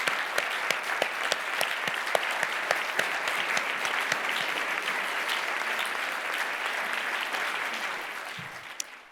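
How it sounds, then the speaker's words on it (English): A seated audience at an awards ceremony for station inductees claps steadily and firmly for several seconds before the applause tapers off, filling the hall with dense, even clapping. "Another round of applause,"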